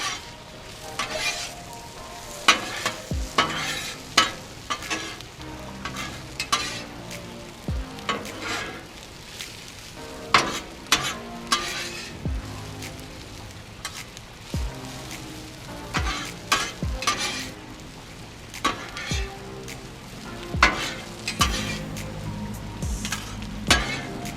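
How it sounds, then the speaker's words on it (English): Corned beef hash fries on a Blackstone griddle under a constant close sizzle, punctuated by frequent sharp scrapes and clinks of a spatula stirring and turning it in an irregular rhythm. "I'm going to throw the corned beef in now and integrate it"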